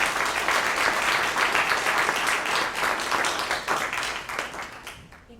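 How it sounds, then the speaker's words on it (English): Warm audience applause at a live recording event in Boulder, Colorado, welcoming a speaker back onto the stage; dense, steady clapping fills the room and fades out near the end. "So if we can give another just warm round of applause for Ashley as she comes back on the stage."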